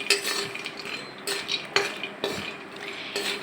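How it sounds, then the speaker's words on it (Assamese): A spatula stirring cashews and almonds frying in a kadai, giving four or five distinct scraping sweeps in a slow rhythm over a faint sizzle, close and clear with no talk. "আৰু এতিয়া মই এই কেৰাহীটোতে কাজু আৰু এলমণ্ড লৈছোঁ ভাজিবলৈ।"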